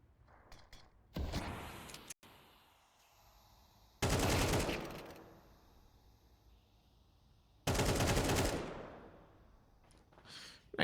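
Gunfire on the Mirage map of a Counter-Strike match, three separate loud automatic bursts a few seconds apart, each a dense rattle that cuts off sharply, with quieter game ambience between them.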